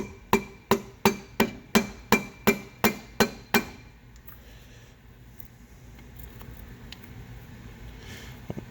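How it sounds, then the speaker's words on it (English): Ten sharp metallic taps from the soft end of a ball peen hammer on a metal part of a 1959 Case 800, in a steady, even rhythm, ringing briefly, followed by quiet room noise with no further strikes. "I just got the soft end of a ball peen hammer."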